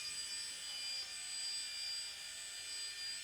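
An Esky 150 EC RC helicopter flies with a thin, high-pitched whine from its small motor and rotor, steady and moderately loud across the few seconds, with no talking.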